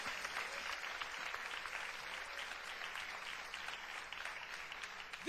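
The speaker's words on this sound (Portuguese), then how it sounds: "Aplaude ao Senhor, Ele é digno do teu louvor, da tua admiração." A church congregation claps in a continuous, even burst of applause, heard fairly faint and distant from start to finish.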